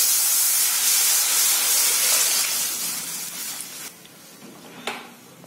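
Dissolved tomato water is poured into a hot pan of tempering for Tamil paruppu rasam, giving a loud steamy hiss that gradually fades, with a couple of brief spits near the end.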